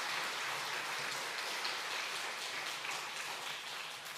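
Soft, steady applause fills a Korean church gathering, a dense wash of many hands clapping at a low, even level that resembles a rain-like hiss throughout.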